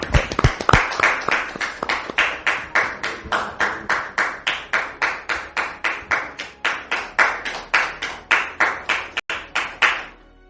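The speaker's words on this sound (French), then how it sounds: "Il s'agit de Dame Francine, que nous recevons sous vos applaudissements." Studio audience on a French talk show set clapping in unison to welcome a guest, around thirty sharp, evenly spaced rhythmic claps, loud and close, with a slight pause near the end.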